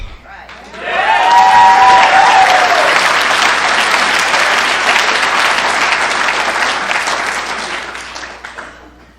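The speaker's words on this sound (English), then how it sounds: "You guys are very compassionate with all that applause and shit." A crowd at a recovery meeting breaks into loud, sustained applause that swells quickly, holds for several seconds and slowly fades, with a few cheers mixed in.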